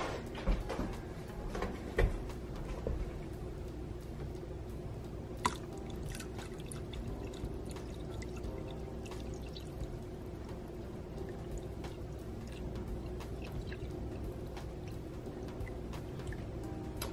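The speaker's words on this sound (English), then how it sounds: "So we just need to add a little bit more distilled water to get to that line." A steady thin stream of distilled water pours continuously into a pitcher, with faint drips and small clinks near the start, close and quiet.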